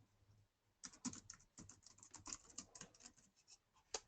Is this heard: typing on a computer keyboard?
yes